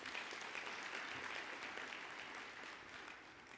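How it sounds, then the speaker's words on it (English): Broad, steady applause from a large audience at a May 2023 graduation ceremony, a continuous dense wash of clapping heard fairly faintly, slowly easing toward the end. "Let's give them a big round of applause."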